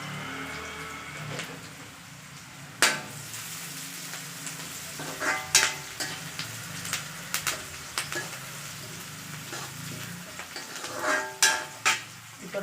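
Curry leaves and cumin sizzle in hot oil in a pan while making poha, a steady soft frying hiss broken by sharp crackles and pops and the occasional scrape of stirring, heard close with no talking.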